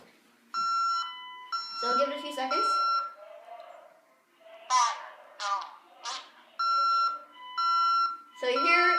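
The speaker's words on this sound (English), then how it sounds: "So you hear the downstairs alarm." A home alarm system triggered during a smoke detector test sounds repeated electronic siren bursts and tones in a steady on-off pattern, with someone talking close by between and over the bursts.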